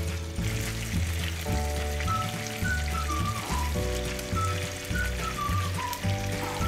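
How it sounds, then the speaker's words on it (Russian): Fresh tomato juice stews with garlic in a pan, giving a steady soft bubbling sizzle under a quiet melodic background tune. "Вот мы надавили почти весь свежий сок с помидоров и тушим с чесноком."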